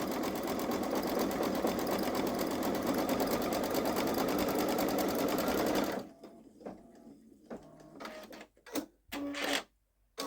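Babylock Solaris sewing machine embroidering a digitized design, a steady loud mechanical whir of rapid stitching for about six seconds, then stopping, followed by quieter intermittent clicks and handling noises.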